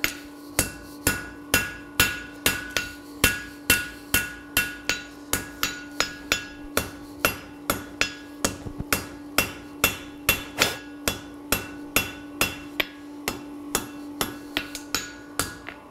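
Steady, rapid strikes of a light hammer on metal as it pushes the material of a forged iron horse sculpture, dozens of crisp ringing blows in an even rhythm, close up and uninterrupted by speech.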